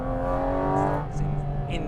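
A Porsche sports car engine revs hard on Italian mountain roads with a dense harmonic roar, pitch shifting as it accelerates, close and loud, with a voice briefly audible over it.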